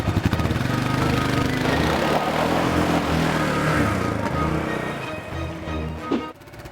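A Kawasaki KLR650 motorcycle engine running to warm up before an oil change, a loud close single-cylinder thrum with a steady pulsing beat that eases slightly and dips near the end.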